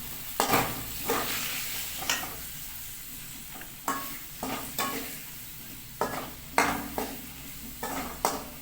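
Soybean and potato are stirred in a pot with turmeric, chili powder, coriander powder and whole cumin, giving a soft sizzle under repeated metallic scrapes and clinks of a spoon against the pot.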